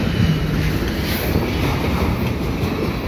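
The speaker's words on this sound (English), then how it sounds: "And here this train is heading east" A CN freight train crossing a single track bridge in autumn, a loud steady roar of rolling cars with faint clickety-clack and some wind buffeting, heard close and continuous with no voices.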